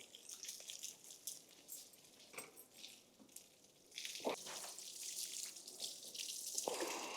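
Cold water is poured over an elderly man's hair during washing, a faint trickling and splashing with scattered drips that swells into a fuller stream of pouring toward the end, close by.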